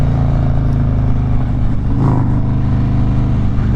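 A Harley-Davidson Road King motorcycle has its throttle cracked open, a loud, steady, close-up engine roar with a dense low rumble and a brief surge in the middle, no voices.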